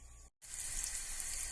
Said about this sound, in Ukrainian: і на середньому вогні нехай жаряться.